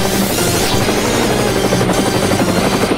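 A helicopter in an Indian action-movie fight scene: a loud, dense, steady rotor roar with a rhythmic low thump, continuous and close throughout, with no talk.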